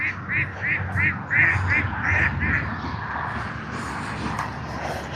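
Geese honk in a rapid series of nasal calls, fairly close and loud, followed by a noisy stretch that may hold hissing, with outdoor ambience throughout.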